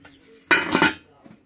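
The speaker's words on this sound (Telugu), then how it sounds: "దీని మీద మూత పెట్టుకుందాం" A lid is set down onto a cooking pot in a home kitchen, giving a single loud metallic clatter with a brief ringing tail, followed by a faint softer clink.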